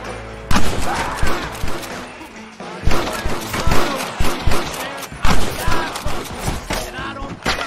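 Gunfire in the Red Dead Redemption video game: loud bursts of shots and heavy thuds cluster in volleys across the scene, with people talking over the shooting.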